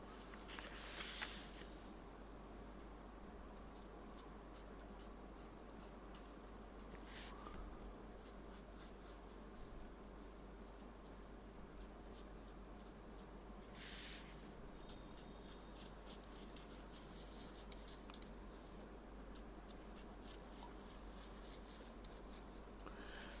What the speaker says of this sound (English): Then with the help of pencil or marker, just make over these lines.